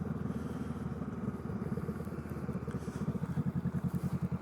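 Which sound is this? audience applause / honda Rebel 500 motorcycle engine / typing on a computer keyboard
honda Rebel 500 motorcycle engine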